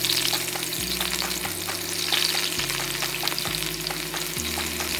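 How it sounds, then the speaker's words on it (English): Sliced potatoes deep frying in batches in a large heavy pot of oil at 325 degrees, a loud, steady bubbling sizzle running unbroken, with a low droning hum beneath and no speech. "Carefully add the sliced potatoes in batches, ensuring that there is no overcrowding"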